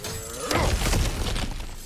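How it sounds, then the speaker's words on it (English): Ground cracking and shattering as it is smashed through in God of War Ragnarok, a sharp break followed by crumbling debris, loud and close with a music bed underneath. "Ah, back to smashing through things for fun and profit."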